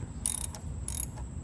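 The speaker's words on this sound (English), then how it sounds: "we got the bolts in loosely, and now we just got to tighten them" A ratchet wrench tightens skid plate bolts on a Harley-Davidson Pan America motorcycle, giving two short bursts of quick metallic clicking close by over a low background hum.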